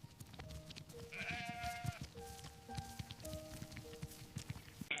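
Sheep bleat repeatedly in a farm enclosure, several overlapping calls at moderate distance over a steady background of rustling and shuffling hooves.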